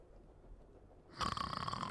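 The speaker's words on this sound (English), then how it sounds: "Okay, he's snoring." A character snores in The Charnel House Trilogy video game, a single loud rasping snore rising abruptly after a quiet stretch, alone without speech.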